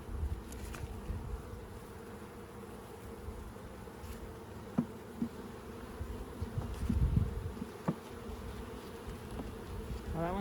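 Honeybees buzz steadily and close during a swarm hive inspection, a dense insect drone running throughout with occasional louder bursts as bees pass near.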